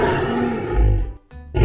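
A lion gives a deep, loud, rumbling roar up close, breaking off briefly before a final guttural burst.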